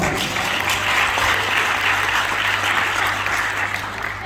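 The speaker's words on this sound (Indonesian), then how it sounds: "Kalau saudara setuju, tepuk tangan untuk Tuhan." Church congregation applauding together at a Sunday service, a steady, dense wash of clapping from a crowd that holds evenly for a few seconds and fades slightly at the end.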